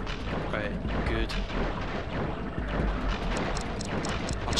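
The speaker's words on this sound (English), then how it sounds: "Oh crap, right, bomb" A bomb explodes in the video game Crash Bandicoot: The Wrath of Cortex, a loud, booming blast set within a dense, continuous wash of game noise and rumble.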